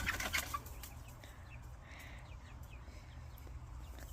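Chickens in a backyard flock with young birds cluck in a short loud burst at the start, then continue as softer, scattered clucks over a steady low background hum.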